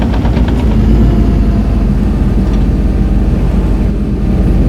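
A Kobelco excavator's engine idles in Farming Simulator 22, a steady close diesel rumble with a faint knocking pulse, running alone without speech.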